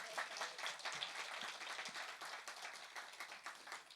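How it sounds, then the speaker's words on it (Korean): Congregation at a Sunday church service claps in response to the pastor, a soft, fairly distant patter of hands that stays steady throughout. "박수 좀 쳐주세요."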